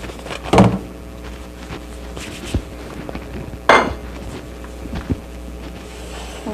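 A metal pan of baked lasagna comes out of an oven in a kitchen, with two sharp clanks of pan and rack and a few lighter knocks in between against a quiet room.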